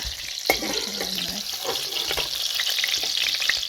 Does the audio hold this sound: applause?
no